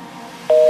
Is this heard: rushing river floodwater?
no